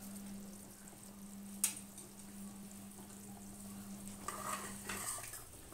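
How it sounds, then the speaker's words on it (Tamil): Soft bubbling and sizzling from a pot of fish curry simmering on the stove, quiet and steady, with a couple of faint utensil clinks and a low hum. "பாருங்கள், நல்லா கொதிக்குது."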